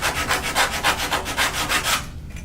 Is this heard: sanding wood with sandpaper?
yes